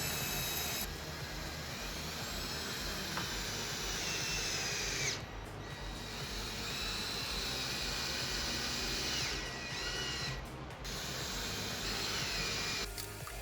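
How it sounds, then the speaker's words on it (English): Power drill boring pilot holes through dense padauk hardwood boards, a steady loud whining drone held for several seconds with two brief dips where the bit pauses, then resumes. "Because paddock is such a dense hardwood, I pre-drilled every hole first, otherwise the screw can bind up and snap inside the wood."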